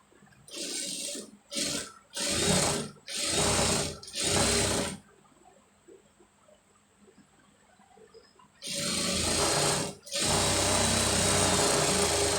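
An electric sewing machine stitches a blouse sleeve in five short bursts, then falls quiet before two longer runs of rapid whirring needle strokes, loud and close with no talk.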